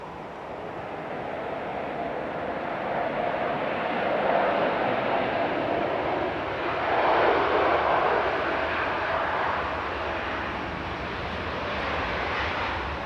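An Iberia Express Airbus A320 Classic departs Manchester Airport for Madrid, its jet engines producing a loud, broad sustained roar that swells and fades slightly over several seconds, heard from a distance without talk.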